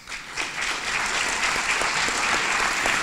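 Applause from an audience at a gathering, dense, steady clapping that swells in within the first half second and continues evenly, fairly close and loud, with no talk.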